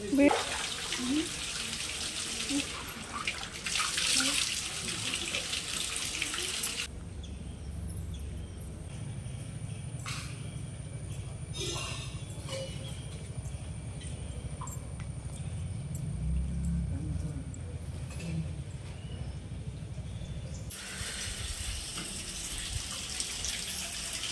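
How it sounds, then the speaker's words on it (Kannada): Water splashes onto a Shiva lingam inside a temple, a steady, close rush of pouring and gushing that carries on throughout, with murmuring voices in the background. "ಶಿವಲಿಂಗಕ್ಕೆ ನಾವೇನೇ ನೀರು ಹಾಕ್ಬೋದು."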